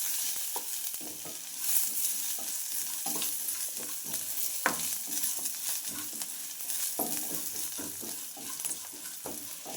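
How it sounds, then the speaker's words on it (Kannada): Dried red chillies frying with garlic in a hot pan, an even crackling sizzle close by with repeated spoon scrapes and stirs throughout, no voices. "ಒಂದು 15 ಒಣಮೆಣಸಿನ್ಕಾಯಿ ಹಾಕ್ಕೊಳ್ತಾ ಇದ್ದೀವಿ. ಹಾಗೆ ಫ್ರೈ ಮಾಡ್ಕೊಳ್ಳಿ."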